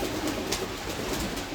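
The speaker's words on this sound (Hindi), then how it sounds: "ये मिक्स ही कबूतर है।" Mixed-breed rooftop pigeons coo softly in a low, rhythmic murmur amid faint background noise, close but quiet.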